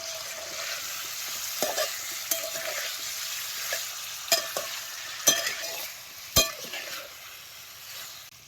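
Drained chopped potatoes go into hot oil with cumin and turmeric, a steady close sizzle broken by several sharp utensil clinks and scrapes against the pan.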